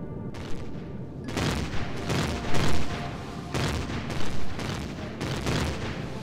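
Enemy gunfire rattles in Empyrion: Galactic Survival during an assault on an outpost, dense repeated bursts and heavy booming impacts arriving in uneven waves, loud and close throughout.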